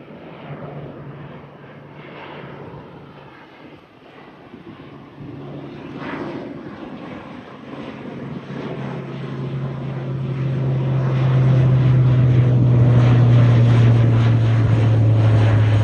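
An airliner departing Gatwick runway 26L passes overhead, its engine roar swelling from a distant rumble to a loud, deep sustained drone over about sixteen seconds, with no talking.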